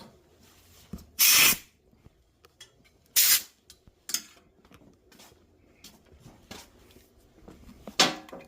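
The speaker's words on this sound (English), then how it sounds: "I'm gonna get my air compressor and blow all that dirt out of the way" An air compressor nozzle blasts dirt away from around an engine spark plug in short, sharp hissing bursts, several of them close and loud, with quiet clicks and handling noises in between.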